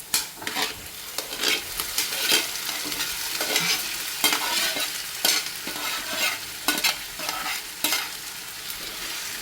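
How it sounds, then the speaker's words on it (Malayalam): Pieces of yam sizzle steadily in hot oil for a pickle, with repeated scraping knocks of a spoon stirring through the pan, close and moderately loud, no voices. "പിന്നെ നമുക്ക് ഇതിലേക്ക് ചേന ഇട്ട് കൊടുക്കാം."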